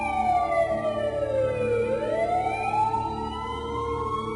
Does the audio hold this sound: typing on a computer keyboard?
no